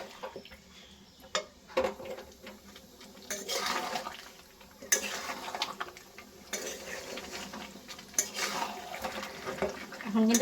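Chicken curry with potatoes being stir-fried in a pan, with repeated scraping and stirring clatters and a wet, bubbling sizzle running steadily underneath, close and moderately loud.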